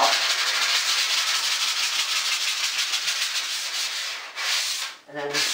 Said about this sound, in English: So the sanding is very important here if you want the end product to look good.